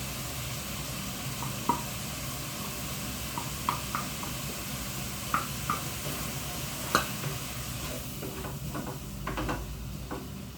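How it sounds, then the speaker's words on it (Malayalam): Tomatoes and masala sizzling in a hot pan while being stirred, a continuous quiet frying hiss broken by scattered soft clicks and scrapes of the spoon, heard close with no talking. "ഇതിൻ്റെ പച്ചമണം മാറും വരെ നമുക്കൊന്ന് ഇളക്കി കൊടുക്കാം."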